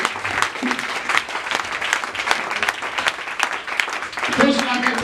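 Congregation applauding during a church service, dense sustained clapping with crowd noise and voices mixed in, continuous and fairly loud throughout.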